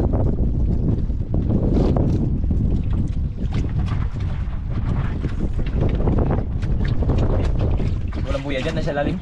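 Strong wind at sea roars and buffets the microphone beside a small fishing boat out grouper fishing, loud and continuous with gusty bursts, and voices talk under it.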